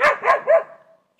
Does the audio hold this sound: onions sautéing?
no